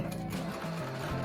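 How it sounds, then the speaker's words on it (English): A sewing machine stitches shirring with elastic thread on fabric, giving a short, close, steady mechanical whir with a rhythmic needle hum. "I'll sew 2 more so you can see what it starts to look like"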